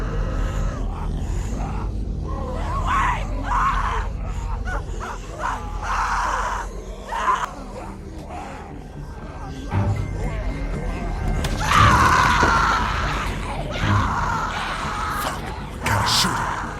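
A woman screams in a scene from The Walking Dead video game, with loud, harsh cries rising over game noise and people talking, the strongest scream near the end.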